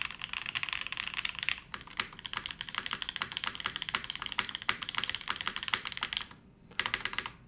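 Steady typing on a custom-built Kage mechanical keyboard, dense clicky keystrokes in a continuous rapid patter with a brief pause near the end, close and fairly quiet with no talking.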